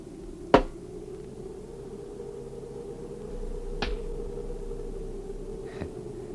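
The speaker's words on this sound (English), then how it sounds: "just an echo from the canyon if you throw a rock against the cabin" A rock thrown against a wooden cabin in a canyon lands with a sharp crack like a rifle shot, followed by two fainter echoing cracks at intervals over a steady low hum.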